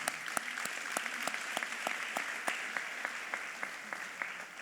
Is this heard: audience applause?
yes